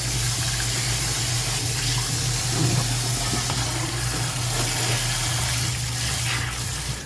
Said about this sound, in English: Nothing wrong with rinsing your ground beef.